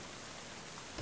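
Rain falls in the medieval colony-building game Going Medieval as a soft, even, steady hiss of drops with no voices, quiet throughout and briefly swelling at the very end.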